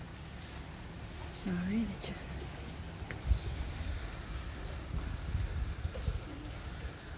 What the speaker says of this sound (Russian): А у нас, девочки, дождь шпарит.